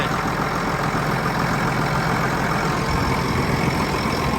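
A heavy diesel engine of a John Deere 7710 tractor idles steadily and evenly, loud and close, with no voices.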